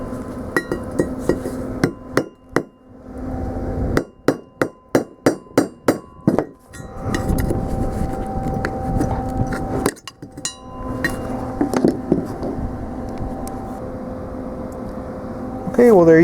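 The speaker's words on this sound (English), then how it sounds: "I've started to beat that out with my hammer" A hammer beats a rusted, fused steel pipe out of the aluminum threads of a pitcher pump, sharp metallic blows in an irregular run of strikes with a ringing clink, and a person speaks between the hits.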